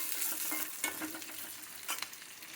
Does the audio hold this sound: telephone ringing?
no